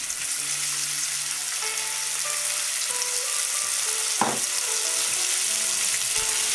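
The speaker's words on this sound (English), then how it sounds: "Preheat your wok on medium-high heat, and then put in 2 to 3 tablespoons of cooking oil, and we're going to start off with browning our ground pork." Ground pork browning in a few tablespoons of hot cooking oil in a wok over medium-high heat gives a steady, dense sizzle throughout, with a sharp stirring scrape near the middle and faint clinks; no one speaks.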